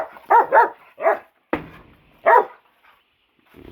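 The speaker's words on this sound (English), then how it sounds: "That's the bird dog." A bird dog on a small chicken farm barks in several sharp, close bursts, a quick double bark followed by single barks with short quiet gaps, and no talking.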